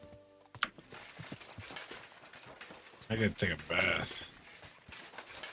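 Horse hooves clip-clop in the video game Kingdom Come: Deliverance 2, light rhythmic steps running beneath someone talking over the game.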